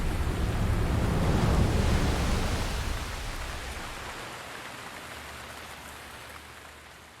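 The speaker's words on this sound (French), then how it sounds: "Et la pluie se calme" Rain pouring in Zelda Breath of the Wild near the Zora domain, a dense hissing downpour that starts loud and gradually thins and quiets as the rain eases, with no voices.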